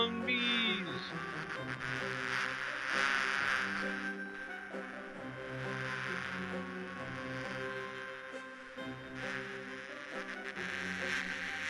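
Bees buzz in the Discworld 2 video game, a continuous insect drone with wavering tones that swells and fades over a bed of game music, with no speech.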